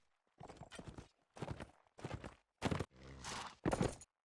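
Horse hooves in a multiplayer video game match clip-clop in a run of separate bursts with short pauses between them, fairly close and moderately loud.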